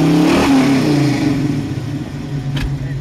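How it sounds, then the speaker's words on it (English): A 1969 Ford Mustang Fastback engine revs loudly through its exhaust, a rising throaty burst that falls back into a rumbling idle, heard close up with a brief clunk near the end. "it's got a really great sounding exhaust."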